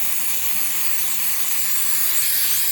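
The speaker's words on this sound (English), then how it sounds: "I'm just gonna actually spray on some type of microfiber or some type of cloth" Throttle body cleaner sprayed in one long, steady hiss onto a microfiber cloth while servicing a 2013-2018 Toyota RAV4, loud and close with no talking over it.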